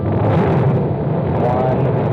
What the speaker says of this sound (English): All engines running. Launch commit. Liftoff.